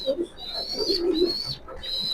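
Maxi pigeons softly cooing in low, rounded bursts, close by and fairly quiet, with a thin steady high whine running underneath.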